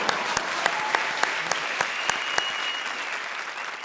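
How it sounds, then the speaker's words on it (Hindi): Studio audience of a comedy show claps steadily and loudly throughout, with a few sharp, evenly spaced accented claps standing out over the dense applause. "ठोको ताली"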